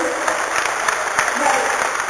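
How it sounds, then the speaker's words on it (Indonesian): An indoor audience claps for Pak Jokowi at a book launch, dense steady applause filling the room at an even level throughout, with no pauses. "Tepuk tangan dong buat Pak Jokowi."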